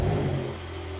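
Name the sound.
Porsche 911 Carrera 992.2 engine starting with sports exhaust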